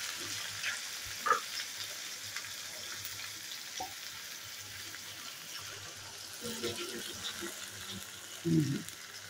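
Chicken sizzling in a pan of browned onions with garlic just added, a soft, steady frying hiss broken by a few clinks and stirring scrapes, with a voice speaking faintly underneath.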